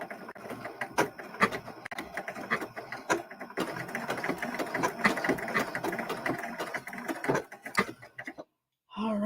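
A sewing machine runs steadily with a long stitch length, its mechanical whir and rhythmic ticking continuing for several seconds before stopping abruptly.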